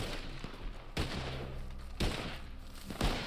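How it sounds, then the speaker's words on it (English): Gunfire in Red Dead Online sounds as a few sharp shots spaced about a second apart, fairly faint against a busy background hum. "why are you shooting?"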